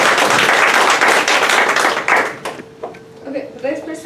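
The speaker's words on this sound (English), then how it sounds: "So round of applause for them." Audience applause at a Honoring Women awards event in Soledad, California, a burst of clapping for about two seconds that thins into scattered claps and taps as voices begin talking.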